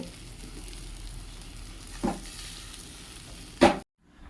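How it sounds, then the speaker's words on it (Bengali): Pieces of yam are spread out and fried in a pan, giving a steady close sizzle with two louder stirring scrapes, the second just before the sound cuts off. "ভালো করে ছড়িয়ে ভেজে নেব"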